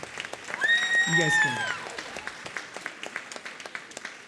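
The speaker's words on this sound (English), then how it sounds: "One more round of applause." A middle school concert crowd claps for a band, with a voice speaking near the start before the clapping thins to scattered claps.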